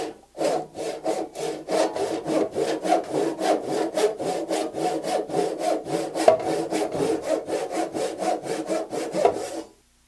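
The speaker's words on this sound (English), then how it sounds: "I'm going to saw the tenon off" Hand saw cutting the tenon off a turned Banksia wooden box bottom, a steady rhythm of about two dozen quick, close back-and-forth rasping strokes that stop abruptly near the end.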